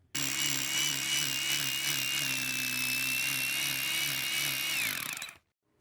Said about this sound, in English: we're just going to take a hammer drill and then drill a hole right through here